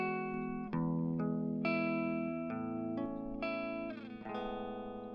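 An EQ'd electric guitar track rings out with sustained, bell-like chords and notes, each change struck cleanly and left to ring, with a tuned, effects-coloured tone and no voices.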